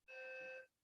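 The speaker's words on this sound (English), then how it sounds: "I believe that is a fire alarm." Fire alarm sounding inside a conference venue, a loud steady electronic tone with bright harmonics that holds for about half a second and then cuts off.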